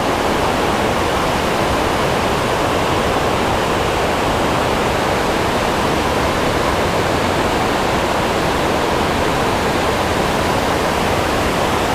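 Rushing river whitewater at a fishing spot, a loud, steady, unbroken roar of churning water that fills the whole stretch with no voices.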